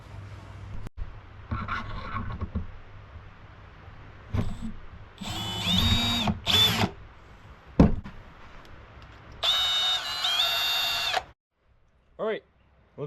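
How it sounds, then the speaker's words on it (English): Power drill boring holes through wooden knife handles for a forged Damascus knife set, several short bursts of whirring with pauses and clunks between, close and fairly loud. "drill the holes in the wood"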